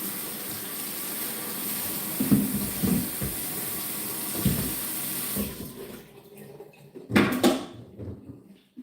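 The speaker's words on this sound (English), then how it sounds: "I'm just going to wash this off." Tap water runs steadily into a sink while green leaves are rinsed under it, a close, continuous gush with a few louder splashes before it shuts off and splashes once more.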